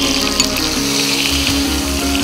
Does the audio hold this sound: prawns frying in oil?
yes